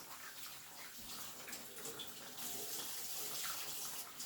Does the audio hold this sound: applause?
no